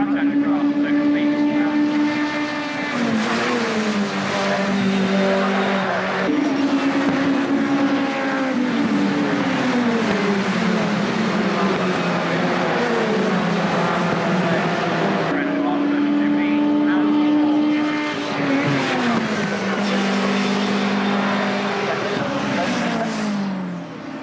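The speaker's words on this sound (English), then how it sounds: "Cars coming out now for practice session number 5 for race 5" Race cars from the 1997 BRDC National Supersports 200 Championship scream past on a British circuit in sustained, loud engine noise, with repeated rising and falling pitch sweeps as cars accelerate and shift, and a commentator's voice running underneath.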